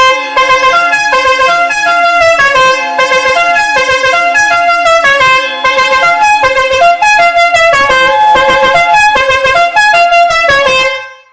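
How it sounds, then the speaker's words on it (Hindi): Five-pipe air pressure horn fitted to a motorbike with a compressor blares a loud, continuous multi-tone musical tune close up, its notes changing rapidly and repeatedly for about eleven seconds before cutting off. "हमारा 5 पाइप वाला एयर प्रेशर हॉर्न"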